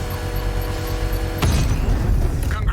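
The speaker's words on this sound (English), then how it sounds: "I can use the power winch to trigger a controlled explosion." A bomb drone's payload is set off in a controlled explosion in Batman: Arkham Knight, a heavy booming burst with rumbling, creaking debris that breaks in abruptly over a steady mechanical hum and rolls on loudly.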